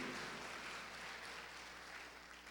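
A church congregation applauds during a sermon, steady dense clapping that fills the room at moderate distance with no voices over it.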